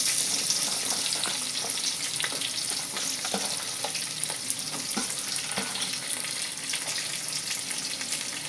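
Onions frying in hot oil on top of a mustard seed and lentil tempering for upma, a loud continuous sizzle broken by scattered clicks and scrapes from stirring.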